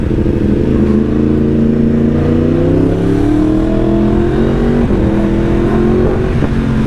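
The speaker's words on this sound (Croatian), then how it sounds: "i onda mu samo z gasa daješ, samo milimetar. I onda on pucketa lagano." A motorcycle's engine hums loudly and steadily close by, its pitch rising gently under light throttle, with a few faint crackles near the end and no voices.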